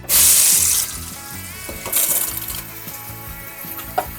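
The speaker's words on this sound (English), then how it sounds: "So next thing we want to do is go ahead and rinse this off in cold water." Cold tap water runs into a kitchen sink while a cabbage is rinsed under it, a steady close splashing rush that swells loudly for moments and then settles into a softer, uneven stream.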